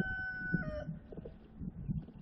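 A hen named Candy clucks low and softly among her nine chicks, whose thin high peeps sound at the start, in a calm, quiet farmyard.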